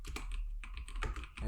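Keys on a computer keyboard are tapped in a quick, uneven burst of close, crisp clicks, with no talking over them.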